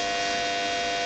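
Frequency-modulated carrier tone at 100 Hz from electronic test gear, a loud continuous buzzing hum with a rich, steady harmonic texture.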